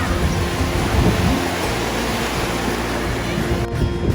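Ocean surf at Siesta Key beach in Florida rolls in as a steady, loud broadband wash of waves, continuous throughout with no clear breaks.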